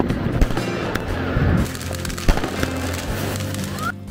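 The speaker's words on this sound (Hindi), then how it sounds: "अब वक्त है बड़े बड़े बम फोड़ने का" Diwali firecrackers bursting outdoors during the festival: a few sharp, loud bangs and pops scattered over a busy crackling background, with a brief rising whistle near the end.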